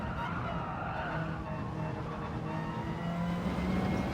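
Gr.4 race car tyres sliding and skidding in Gran Turismo 7 lobby racing, a steady, continuous screech over the engine drone that holds for several seconds without a break.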